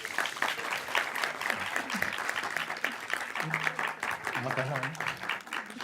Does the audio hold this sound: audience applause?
yes